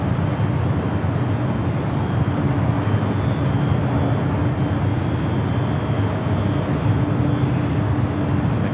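A 32-year-old Boeing 757-200 airliner at Los Angeles airport, LAX, gives off a loud, steady, low engine roar and rumble that holds at a constant level for the whole stretch, with no talk.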